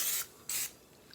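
Two short hissing bursts of cooking spray from an aerosol can, coating every crevice of a pan before batter goes in, each lasting about a quarter second with a brief pause between, close and fairly loud with no talking.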